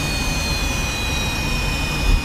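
Jet aircraft axial-flow turbine engine in the DCS World flight simulator: a loud, continuous roar with a steady high whine, swelling slightly at the end.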